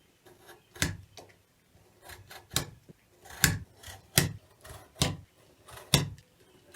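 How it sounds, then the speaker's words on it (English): Knife scoring cut lines across wood while laying out notches for a sanding bow; a series of about eight sharp, short scraping strokes, close and fairly quiet, with short pauses between them and no talking. "Then I'll lay out the notches and score all my cuts."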